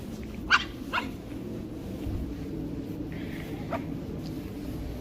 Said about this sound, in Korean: 얘 이렇게 원래 많이 짖어요?